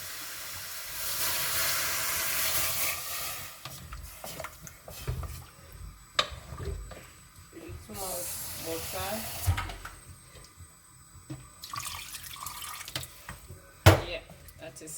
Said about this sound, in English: So now I add a little bit of water.